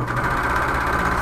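A sewing machine runs steadily, stitching a second pass over the seams where a shoulder bag's lining joins the main bag, a continuous close mechanical whir with no talking.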